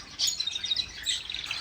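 Small pet finches chatter in a steady stream of high, quick chirps and tweets, close and fairly loud, with no talking.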